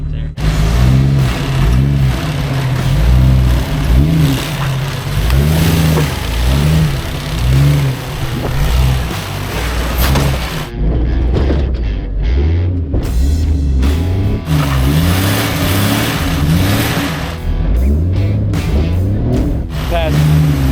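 An off-road car climbing over rocks keeps its engine revving at mid pitch, surging and easing in loud, close waves, while a voice talks over it part of the way.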